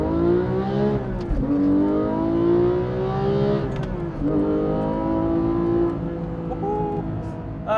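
A Porsche 992 GT3 Touring's flat-six engine revs hard through several rising sweeps with brief dips between them, loud and continuous, with no talk.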